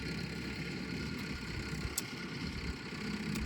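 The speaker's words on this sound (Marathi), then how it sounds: "ट्रॅक्टर चालू" A farm tractor engine runs steadily at idle in a village setting, a continuous low rumbling drone that stays even throughout, with a few faint clicks on top and no talking.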